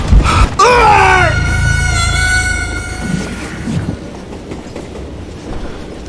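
A loud train rumbles along the rails with a screeching, whistle-like tone sweeping up at the start, then the clatter fades to a quieter rolling hum.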